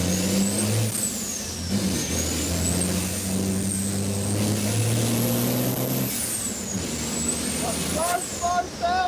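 A racing truck rolls slowly out of the pit lane onto a circuit. A loud, steady engine drone rises and falls with shifting tones. It sounds close, from inside the cab, with a short chirping sound near the end.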